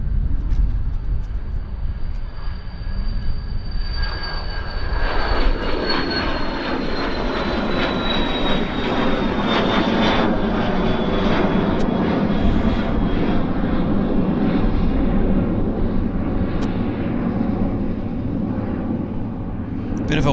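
A passenger airplane takes off at Vancouver Airport, its engine roar loud and steady, with a falling whine as it climbs away, heard alone without talk.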